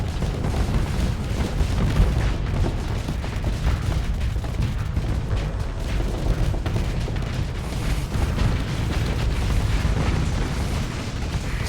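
Missiles fire and explode in the space combat game Starsector, a dense, continuous rumble of booms and bursts layered over each other at steady loudness throughout.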